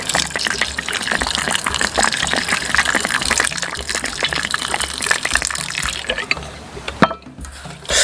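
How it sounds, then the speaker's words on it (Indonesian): Hot water is poured over raw shrimp being prepared for a spicy bacil soup, making a steady, loud gushing splash for about seven seconds that cuts off near the end. "si udang ini akan kita siram pakai air panas"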